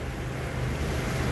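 Sea waves churning near the shore, a steady wash of surf mixed with low wind rumble against the microphone, continuous and moderately loud with no voices.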